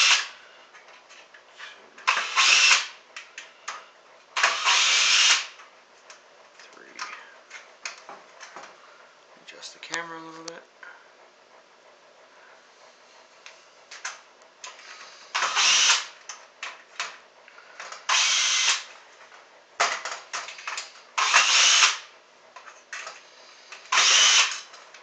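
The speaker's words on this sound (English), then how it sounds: "I'm gonna do it with a drill" Power drill backing out heat sink screws on a Sega Genesis Model 2 console: short, loud whirring bursts repeated about a dozen times with quiet gaps, close by, with a person talking in between.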